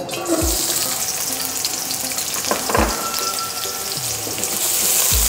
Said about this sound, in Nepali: तेल पनि हल्का तातिसकेको छ। अब यसमा प्याज राख्न गइरहेको छु 200 ग्राम।